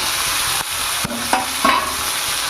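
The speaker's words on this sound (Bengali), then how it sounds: "টমেটোটাও পেঁয়াজের সঙ্গে একটু ভাজা করে নেবো" Onion, green chili and tomato fry in hot oil with a steady sizzle, broken by a few clinking stirs and scrapes against the pan.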